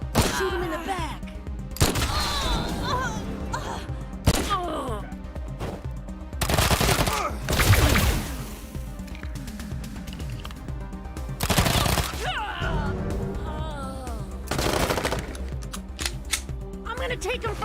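Gunfire in Wasteland 3 comes in sharp bursts and single loud shots scattered across a tactical combat fight, with a player talking over the action between volleys.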